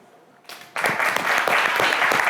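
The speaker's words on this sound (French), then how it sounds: "qu'on applaudit bien fort." Studio audience applause on a French television show starts with a faint murmur, then builds into loud, dense clapping from many hands that holds steady to the end.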